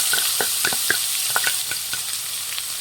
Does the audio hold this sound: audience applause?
no